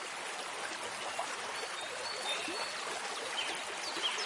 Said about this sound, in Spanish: ese sonido clásico de el agua es inconfundible